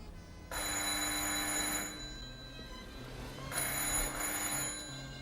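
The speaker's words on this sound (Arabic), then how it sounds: "مش هترد على التليفون؟" A telephone rings twice with a bright, electronic trill, each ring lasting over a second with a pause between, at moderate volume indoors over a soft background.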